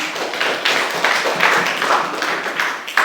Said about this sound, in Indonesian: beri tepuk tangan untuk kelompok yang pertama